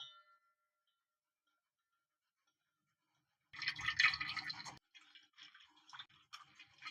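Freshly blended mint and coriander juice strained from a mixer jar, a short splashing, dripping pour lasting about a second, followed by quieter trickles and small clinks after a silent start.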